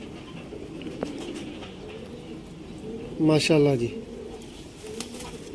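Teddy pigeons offered for sale in Sialkot, one clear throaty coo rising midway over a quiet background of faint rustling and bird chatter, with someone speaking briefly.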